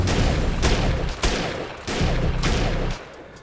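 Semi-automatic sniper rifle fire in the video game Defiance: four loud, evenly spaced shots, each with a sharp crack and a rumbling tail, over a steady low game background.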